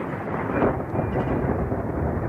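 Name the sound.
thunder snow, thunder during a snowstorm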